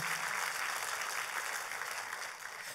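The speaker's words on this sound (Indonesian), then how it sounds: "kalau mau tepuk tangan, tepuk tangan" A congregation claps during a church service sermon, a soft, distant, continuous patter of many hands that stays faint and even, with a preacher's voice briefly present at the start.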